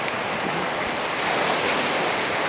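Ocean waves surge onto Jeongdongjin beach on Korea's coast on a New Year's morning, a broad, continuous roar of surf with wind hiss, loud and close, with no voices.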